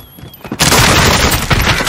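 Sustained burst of close, loud automatic gunfire in the battle royale game Call of Duty: Warzone, opening after a quieter half-second and rolling on dense and continuous.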